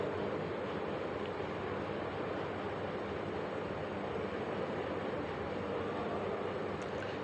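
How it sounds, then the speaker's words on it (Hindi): Water from the Sangarh waterfall in Sainj valley rushes steadily down a stream nearby, a continuous broadband roar with no pauses, heard alone at moderate volume. "ये वाटर वही है जो वाटरफॉल से आ रहा है।"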